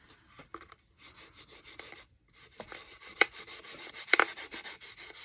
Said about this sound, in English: put some dark wax over the whole thing to give it that sort of aged look